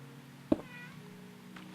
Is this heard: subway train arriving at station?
no